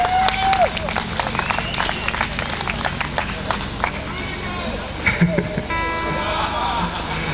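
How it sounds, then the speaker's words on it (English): Audience clapping and cheering at an outdoor live covers-and-originals concert in Ashton Gardens, St Annes, a steady crowd applause with scattered whoops and voices that swells again near the end. "Since you all like clapping so much"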